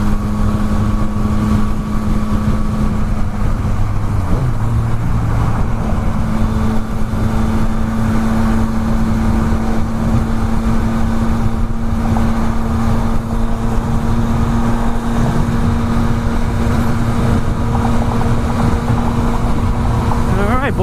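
A Yamaha XSR900 motorcycle cruising on a highway, with a loud continuous engine drone and a steady tone throughout, heavily mixed with wind rush against the microphone.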